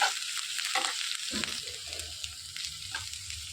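Ginger garlic paste frying in a pan for cauliflower pepper curry, a steady close sizzle with soft stirring scrapes throughout.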